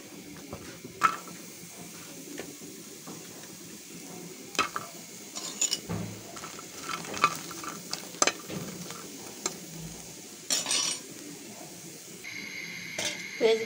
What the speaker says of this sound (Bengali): আমি পেস্টটা ভেজে নেব।